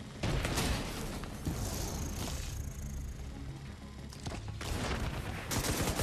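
Rapid gunfire from a rogue sniper turret in The Division 2 video game, dense bursts of shots and booms layered over continuous combat noise, loud and sustained throughout.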